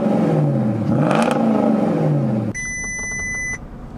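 An old V8 petrol Porsche Cayenne S starts up, its engine flaring and revving up and down close by. A steady electronic warning chime from the car then sounds for about a second.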